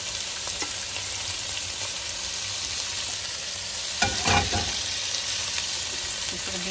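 Chopped vegetables fry in hot oil for noodles, a steady close sizzle broken by a louder burst of stirring and crackle partway through.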